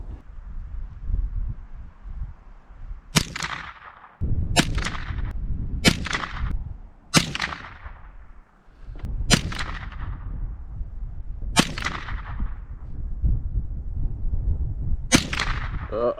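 .22 LR rifle firing ten rounds in a slow accuracy test: sharp, loud cracks spaced a second or two apart, each with a brief ringing decay over steady outdoor background noise.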